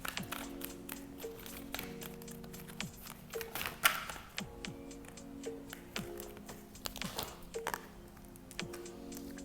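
Quiet, close shuffling of a tarot deck, with soft taps and papery clicks in an irregular stream.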